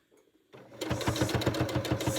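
A sewing machine stitching a fabric scrunchie starts up after a faint pause, then runs in a fast regular chatter of needle strokes, close and clear.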